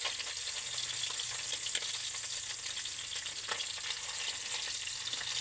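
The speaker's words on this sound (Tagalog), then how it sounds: "While I am talking, I also cook the fried fish." Fish fries in a pan with a steady, close crackling sizzle, an even bed of spitting oil and occasional stirring pops throughout, with no talking.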